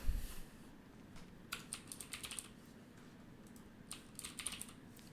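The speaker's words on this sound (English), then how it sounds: "Why am I not typing into the right window?" Close, quiet keystrokes on a computer keyboard, arriving in short irregular bursts separated by brief pauses, with no talking.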